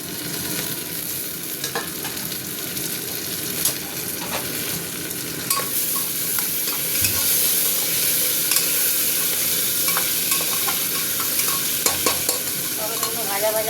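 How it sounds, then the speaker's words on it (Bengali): Tomatoes and onions fry in a pan with a loud, continuous close sizzle, dotted with scattered clatters of stirring throughout. "টমেটোগুলো ভাজা ভাজা হতে থাক।"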